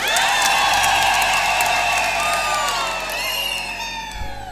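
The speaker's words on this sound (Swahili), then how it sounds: "Makofi kwa baba wa Bukoba." A large crowd at a Catholic jubilee celebration in Moshi applauds and cheers loudly for the Bishop of Bukoba, a dense, sustained wash of clapping with high-pitched ululating whoops rising throughout.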